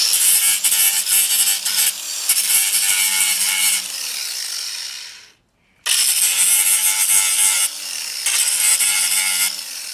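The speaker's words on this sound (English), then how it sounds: "I took my grinder and grinded it a teeny bit, and I epoxied them down." Power grinder working on metal TV antenna parts for a homemade double antenna, loud and harsh with steady bursts of abrasive grinding, a brief break near the middle, then grinding resumes.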